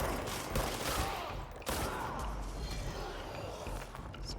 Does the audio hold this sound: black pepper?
no